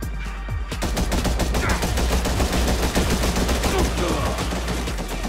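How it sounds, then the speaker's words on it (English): Gunfire rattles in rapid, continuous bursts from players shooting in a PvP arena of the video game Gangstar New York, loud and dense with overlapping shots throughout. "Two people shooting at me."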